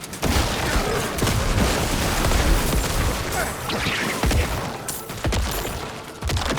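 Corpses bursting repeatedly in Diablo IV combat, a dense, loud barrage of overlapping booms and crackling blasts that continues without pause through the whole stretch.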